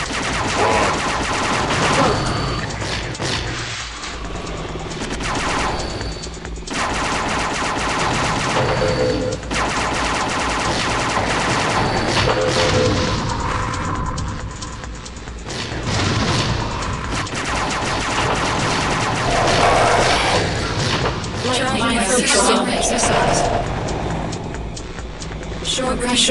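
Short-range missiles fire in the space shooter game Sinistar Unleashed in a dense, loud, nearly continuous barrage of rapid blasts and explosions, with brief dips between volleys across the whole stretch.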